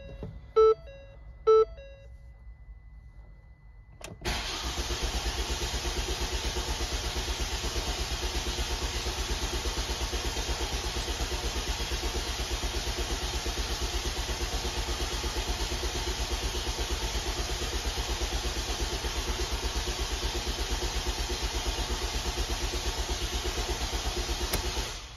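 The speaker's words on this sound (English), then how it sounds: "That's two lots of cranking." A Ford Transit Connect van with a failed timing belt cranks without starting: two short beeps, then a long, steady, rhythmic starter churn lasting about twenty seconds, with no talking.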